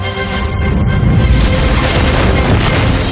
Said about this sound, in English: the sound of torpedoes when they hit the ship's hull is quite specific